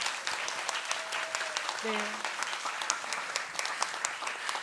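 An audience at a Korea-Denmark future education forum applauds steadily, a dense patter of many hands clapping, with a brief voice heard under the clapping.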